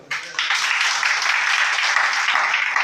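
A church congregation breaks into applause, the sound beginning with a few claps and quickly swelling into steady, dense clapping from many hands that lasts a few seconds.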